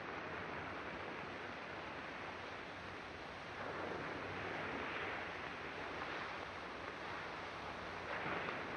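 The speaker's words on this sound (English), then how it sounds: "The waves rolling in all night long." Ocean surf rolls in at night, a faint, steady wash of breaking waves that swells gently every few seconds with soft wind, no voices.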